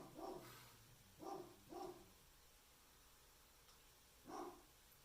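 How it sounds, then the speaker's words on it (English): A dog barks in the distance, four separate barks in an uneven rhythm, the first three close together and the last after a pause. "what's that dog barking?"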